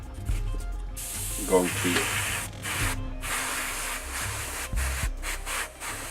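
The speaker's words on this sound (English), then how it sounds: "I'm gonna take some light blue and again through the airbrush." An airbrush sprays light blue paint in short hissing bursts with brief gaps between them, heard close up. A voice speaks briefly over the spraying.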